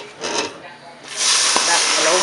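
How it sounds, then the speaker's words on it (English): Water poured into hot, browned caramelized sugar in a pan bursts into a loud, steady sizzling hiss that holds through the end, after a short, softer rustle. "And now we're gonna go ahead and add in some water."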